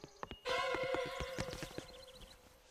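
Cartoon horse from a children's animated riding show: a loud whinny-like neigh bursts in with harmonic tones, followed by rapid clip-clop hoof beats that gradually fade, with no talking.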